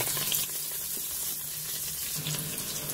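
Quail and onion pieces brown in a Cookeo multicooker with a steady, even sizzling hiss, close and moderately loud, with no speech.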